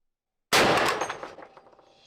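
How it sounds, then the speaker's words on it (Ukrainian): A single loud rifle shot at hard drives cracks out after half a second of silence, followed by a ringing, decaying echo with some faint clatter. "Готовий до пострілу по жорстких дисках."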